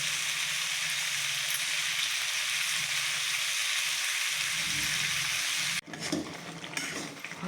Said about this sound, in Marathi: आता हे शिजत आलं लोणचं